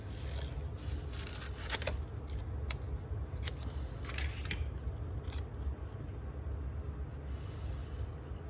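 Scissors fussy cutting paper flowers for a card, a series of close, crisp snips at uneven intervals over a steady low background hum, with no talking.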